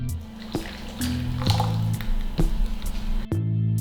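Cream poured into a pan of pasta alla carcerata, wet squishing drips and glugs over a low sizzling hum, ending abruptly.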